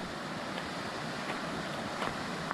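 River rapids rush in a steady, broadband roar close by, continuous and fairly even throughout with no voices.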